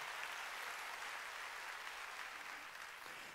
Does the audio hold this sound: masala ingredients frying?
no